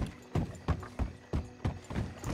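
Hooves of a white horse in the Red Dead Redemption video game clip-clop at a steady trotting pace, about seven close, evenly spaced thuds with no voices over them.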